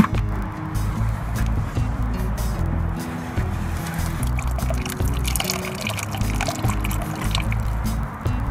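Water drips and trickles from squeezed floating moss being scooped for Venus flytrap soil, a steady patter of small splashes close by over a continuous background hum.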